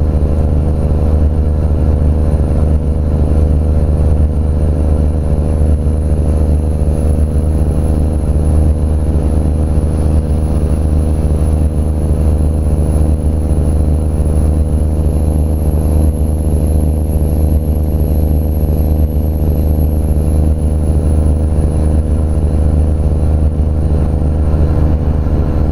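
A Kenworth W900 truck with a fictional 842 hp engine drones at a steady loud cruise in American Truck Simulator, a constant low rumble with a thin high whine running throughout.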